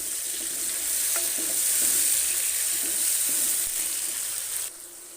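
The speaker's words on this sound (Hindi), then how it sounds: "अब यहाँ पे जो टमाटर है वो बेहतर भून गई।" Large tomatoes frying in a pan while a Pakistani karahi gosht is cooked, a steady soft sizzle with light stirring scrapes, close and alone.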